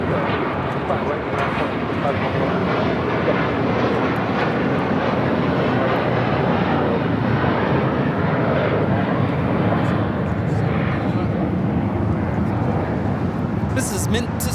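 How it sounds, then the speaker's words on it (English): A six-year-old JetBlue Airbus A321 takes off from LAX for Fort Lauderdale, a loud, sustained broadband jet roar filling the clip without a break. "taking off to Fort Lauderdale, JetBlue 100, 6-year-old A321"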